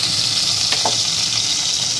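Potatoes frying in oil with garlic and ginger paste, a steady close sizzle with a few soft stirring scrapes in the middle.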